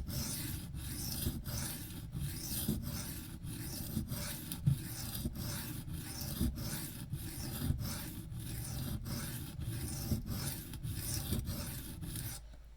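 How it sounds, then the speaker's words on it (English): A Benchmade Mini Griptilian knife edge is sharpened freehand on a stone, giving rhythmic back-and-forth rasping strokes about twice a second, close and steady throughout. "Let's start sharpening. Obviously going to start on one side, and we're going to build up an apex."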